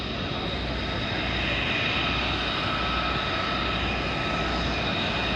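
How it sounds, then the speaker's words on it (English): KC-135 of the 160th Air Refueling Wing landing at Eielson Air Force Base during an airshow, a loud, steady engine roar that fills the whole stretch. "KC-135 touching down from the 160th Air Refueling Wing."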